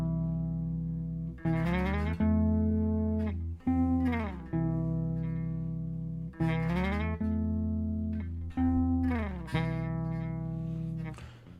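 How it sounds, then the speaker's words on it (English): A bass line plays alone as a steady sequence of sustained, sliding bass notes with a synthetic, effected tone, running continuously and fairly loud with regular note changes every second or two. "So I took the bass line and changed it up a bit and added a whole different"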